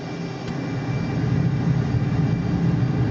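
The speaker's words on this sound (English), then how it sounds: "Oh look, I've got the afterburner on, Simon." Jet engine with the afterburner lit in the Flight Simulator 2024 game, a steady loud roar with a low rumble that holds throughout, with no voices over it.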